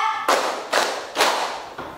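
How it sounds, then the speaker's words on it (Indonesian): A class of students claps together in a teacher's rhythm game, sounding four sharp broadband bursts of many hands. Each burst decays quickly, with short pauses between them, in a classroom. "Tepuk 3."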